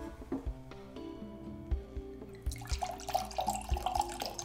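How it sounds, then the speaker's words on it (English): A drink is poured into a glass, a close trickling, splashing stream of liquid that builds and brightens in the second half, with soft clinks and thuds underneath. "Could you pour me another glass?"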